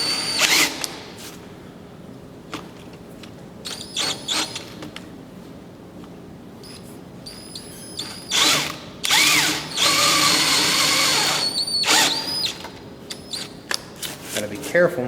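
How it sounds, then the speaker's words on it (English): Drill boring out waste material for a woodworking tenon, with repeated short whirring bursts that grow into longer, louder runs midway, close by, broken up by pauses and handling clatter. "We're going to line up our drill to take out a bulk of the material."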